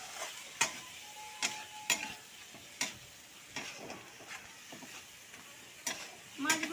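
Prawns stir-fried with masala for Kolkata-style prawn malai curry, a low sizzle broken by repeated sharp clacks of a spatula scraping the pan at an uneven rhythm.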